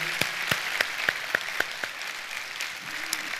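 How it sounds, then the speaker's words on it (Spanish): Applause from a church congregation at an evangelism service: sparse, distinct claps at a steady pace, fairly near and moderately loud, with no talk over them. "Un cariñoso aplauso"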